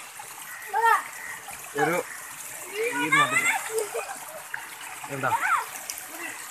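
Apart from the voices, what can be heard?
floodwater splashing and flowing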